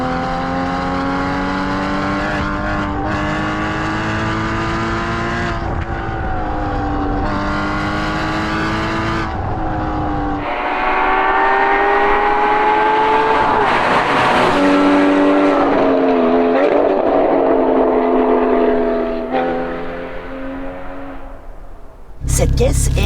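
A Porsche Cayman GT4 sports car engine revs and pulls through gears while driving, loud and steady with rising and falling pitch, with people talking over it.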